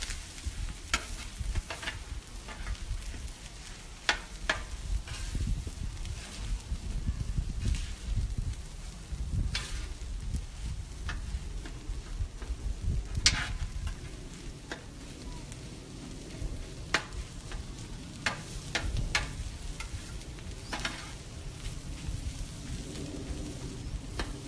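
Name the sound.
stirring food sizzling on a Blackstone griddle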